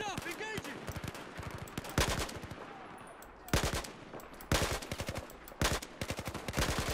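Rapid bursts of automatic gunfire in Battlefield 4, loud close volleys of sharp cracks in quick rhythm, broken by short pauses and a few single shots, with a voice talking faintly between bursts.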